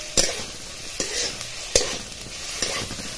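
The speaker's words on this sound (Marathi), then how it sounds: "आणि हे 2-4 मिनिटात हलवत राहायचे।" Dry coconut roasting in a hot pan is stirred with a spatula, a soft dry sizzle broken by several sharp scraping strokes at an uneven pace, close and fairly loud.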